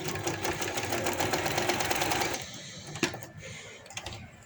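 A domestic sewing machine stitches a maxi frock in a fast close run for about two seconds, then stops, leaving a few clicks and handling noises.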